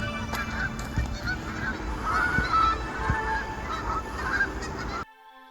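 Canada geese in winter honking repeatedly, several nasal calls overlapping from a flock at moderate distance over a low background rumble, ending abruptly.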